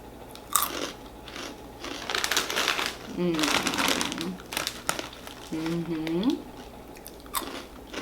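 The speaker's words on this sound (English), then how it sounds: "these little twists had the best freaking crunch because they were so twisty" Crunchy twisted snack pieces being bitten and chewed up close, a steady run of loud crisp crunches across several seconds, with brief voiced sounds in between.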